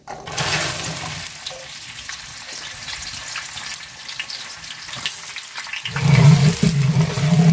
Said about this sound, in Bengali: তো পেঁয়াজটা আগে লাল লাল করে বাজিয়ে নিব